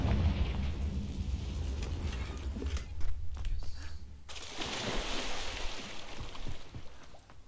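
A Confringo fire spell explodes in the video game Hogwarts Legacy, a deep rumbling blast with crackling debris, followed by a sharp burst and a scattered, fizzing tail, moderately loud.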